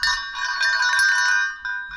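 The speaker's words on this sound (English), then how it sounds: "my best find of the day, obviously, all cleaned up, is this crotal bell" A large old metal crotal bell rings with a bright, sustained metallic jingle that holds steadily, fades, then gives a brief second shake, close and clear with no talking.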